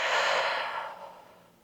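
A long, breathy exhale during a mat Pilates glute and leg exercise, close and soft, strongest at the start and then slowly fading away, with no talking.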